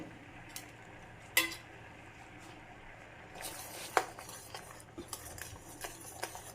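Jaggery melts in a pan while a spoon stirs it, with a quiet low bubbling bed broken by sharp metallic clinks and scattered scraping taps of utensil against pan.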